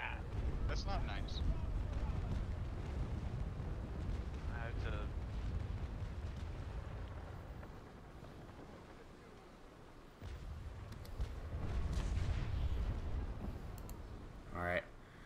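Ship cannon fire in the naval sailing game Naval Action, heard as deep, rumbling booms that swell and fade across the clip, with a player talking over the noise at times.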